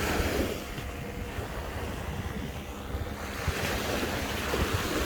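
Surf washing onto a beach at Bal Harbour, Miami, with steady wind buffeting the microphone, a continuous roar of breaking waves that swells again near the end.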